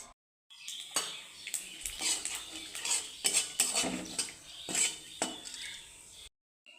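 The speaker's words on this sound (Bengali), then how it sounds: "কড়াইয়ে তেল দিয়ে দেবো শুকনো লঙ্কা তেজপাতা পাঁচফোড়ন দারচিনি এলাচ" Dry chillies, bay leaf, five-spice, cinnamon and cardamom are stirred in oil in a wok, a metal spoon clinking and scraping against the pan in repeated strokes over a faint sizzle, close and fairly quiet.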